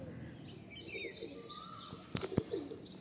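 Pigeons in a breeding loft coo softly and chirp at a moderate distance, with a brief flutter and a couple of sharp knocks near the end, over a low background hum.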